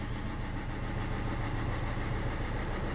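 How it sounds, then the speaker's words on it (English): A Renault Scenic 1.5 dCi diesel engine misfiring on cylinder 1 runs at a steady idle, a continuous low, uneven rumble close by with no talking. "it's running like this, misfiring"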